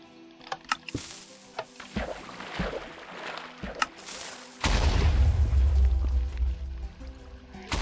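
Cannon firing in Minecraft, a game: scattered clicks and pops, then a sudden loud boom that rolls into a long, heavy rumbling roar.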